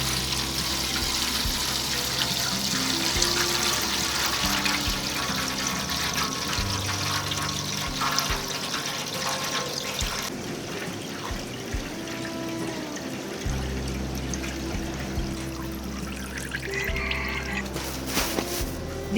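Water and sediment drain from an old fuel tank removed from an old Daewoo car, a continuous trickling and pouring of liquid with low hum underneath, fairly quiet and steady.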